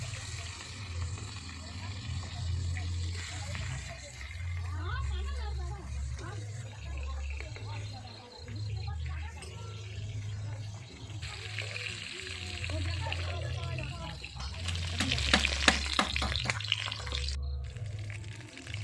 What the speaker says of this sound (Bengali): তেলও গরম হয়ে গেছে, এক এক করে মাছগুলো ভাজা করে নেব।